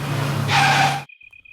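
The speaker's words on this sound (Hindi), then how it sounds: "जरा गाड़ी रोकिए तो" A car brakes to a sudden stop with a short, loud tire skid that cuts off abruptly into near silence, leaving only a faint high tone.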